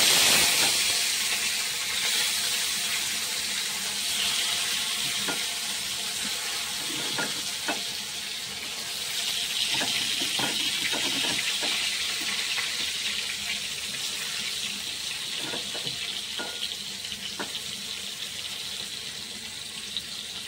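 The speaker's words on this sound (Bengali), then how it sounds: "দেখতে পাচ্ছ মাছগুলো ফ্রাই করছি" Gonia fish frying in hot oil, a steady hissing sizzle that lasts throughout, broken by faint clicks and taps of a utensil against the pan, with no voices.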